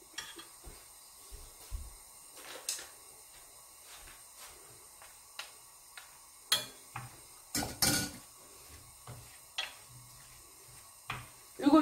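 Radish and ginger stir-fried in a pot over raised heat, a utensil giving sparse, uneven clinks and scrapes against the metal, mostly quiet with a few sharper knocks near the end.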